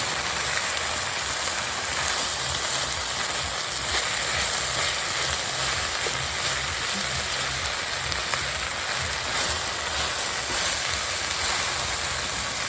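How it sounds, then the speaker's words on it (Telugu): Moringa leaves and eggs frying in a pan, a steady dense sizzle with an even crackle that holds at the same level throughout, with no voices. "మునగాకును కూడా ఇందులో వేసేసుకున్నాం ఇరువైపులా తిప్పుకొని బాగా వేయించుకోవాలి"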